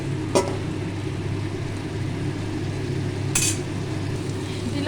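Fish roe and potatoes being sautéed in spices in a pan, a continuous low sizzle with two brief sharp clinks of a utensil against the pan.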